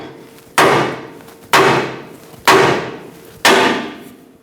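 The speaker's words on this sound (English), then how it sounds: "Use a large hammer, give it a few taps." Large hammer striking the stud on a Ford E-350 drag link, four loud metallic blows evenly spaced about a second apart, each ringing and decaying before the next, with no talk.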